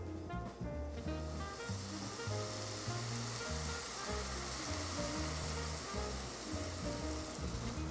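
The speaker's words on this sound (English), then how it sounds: "I'm going to add in my vegetable stock. Careful, it might bubble up" Vegetable stock poured into a pot of toasted orzo sizzles and bubbles with a steady, close hiss that runs throughout, without any talking.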